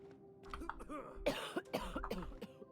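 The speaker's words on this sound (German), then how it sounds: "Huste mich nicht an, ey, geh weg" Repeated coughing from a character in the video game The Outer Worlds, a run of short rough bursts set over faint game ambience and a steady background tone.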